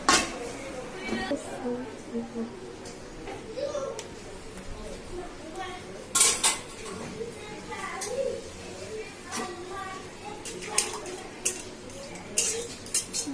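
Pots, pans and cutlery clatter in a home kitchen while chicken for a pulao-and-chicken curry meal is put on a gas stove to cook; scattered metallic clanks and scrapes ring out near and fairly loud, with speech running over them.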